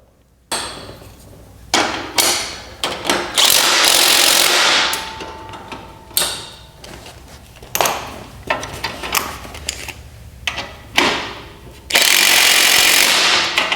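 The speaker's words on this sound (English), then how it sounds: "So now I'm going to go ahead and tighten up all of the bolts" Bolts on a Johnny Bucket front hitch mount are tightened with a power impact tool, giving repeated loud bursts of rattling hammering and short pauses between them, close up with no talk.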